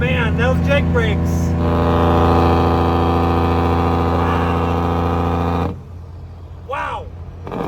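A loaded cattle truck descending a hill at about 1700 RPM, its jake brake giving a loud, steady, rumbling engine-braking drone that cuts off abruptly near the end, with someone talking briefly at the start and again afterward.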